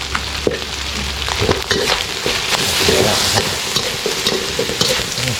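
Field rat meat is stir-fried with chili and wild holy basil in a hot pan, a loud, close sizzle with quick scraping stirs and clatters running continuously.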